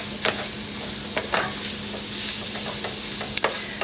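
Dehydrated onions cook in a crockpot Zuppa Toscana soup while a spoon stirs, giving a continuous soft sizzle with scattered scraping clicks of the utensil, close and with no voices.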